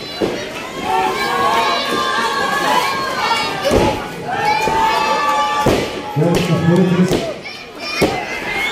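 Lively crowd at a lucha libre wrestling show, shouting and cheering through the whole stretch, with dull thuds from bodies hitting the ring now and then and an announcer's voice cutting through over the crowd.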